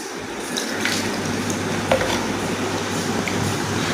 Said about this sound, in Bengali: এখন আমি আমার কৃষ্ণ এবং রাধারানীর চরণ ধুয়ে নিচ্ছি জল দিয়ে